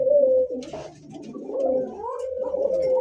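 Fancy pigeons at a market coo in low, throaty, repeated calls close by, with faint background noise and no clear talk.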